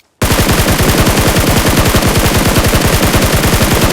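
Rapid automatic gunfire from a video game, a loud, sustained burst of evenly spaced shots that starts abruptly after a brief silence and runs continuously without pause.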